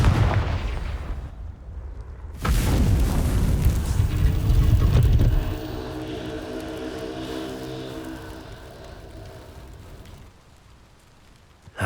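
A Confringo fire spell explodes in Hogwarts Legacy, a loud broadband blast of about three seconds in the middle, rumbling and crackling before it fades into a quieter, tonal game ambience.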